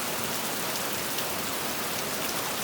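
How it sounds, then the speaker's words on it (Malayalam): Heavy rain pours steadily, a dense, even wash of drops with no pauses. "ഇവിടെ നല്ല മഴയാണ് കേട്ടോ"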